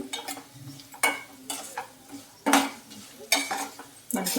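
Green chillies fry in oil for pulihora, with a low sizzle broken by a series of sharp metal spoon scrapes and clinks against the pan at irregular intervals.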